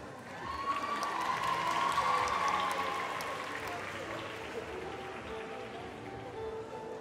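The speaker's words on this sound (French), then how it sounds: "Alors applaudissez-les bien fort." An audience at a festival show applauds after a trapeze act, a swell of clapping with some cheering that peaks early and then settles into steadier applause, with a voice faintly audible over it.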